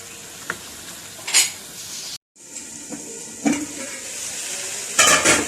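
Bone-in malai boti cooking in a creamy gravy of cream and yogurt, a soft bubbling sizzle broken by several short stirring scrapes, with one abrupt silent gap partway through.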